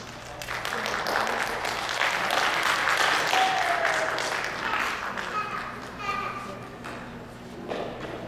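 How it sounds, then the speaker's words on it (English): Audience at the opening ceremony of an arts and activity center applauds in a steady wash of clapping that carries through most of the stretch, with voices and chatter mixed in and a speaker's voice near the end. "let's give them a round of applause"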